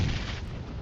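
A grenade explosion in the mobile shooter game PUBG Mobile, a single loud, close blast that booms out and slowly fades.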